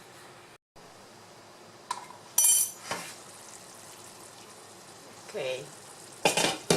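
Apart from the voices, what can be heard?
stirring sofrito and tomato stewing in a pot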